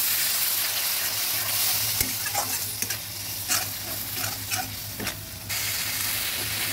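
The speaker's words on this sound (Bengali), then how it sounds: "এবার একটু জল দিয়ে মশলাগুলো ভালোভাবে ভেজে নেব।" Spices fry in a pan with a splash of water, a steady sizzle and hiss broken by scraping stirs and clinks of the spatula against the metal, close and fairly loud, with a low hum running underneath.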